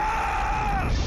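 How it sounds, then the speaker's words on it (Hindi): A man's loud, drawn-out yell rising in a sustained shout, brief and close, from an animated fight scene. "उसने चिल्लाते हुए आवाज़ दी"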